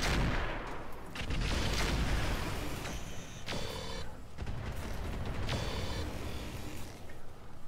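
Weapons fire in the tactical shooter game Roguepoint, with repeated sharp shots and bursts over a steady, loud wash of in-game ambience and mechanical noise.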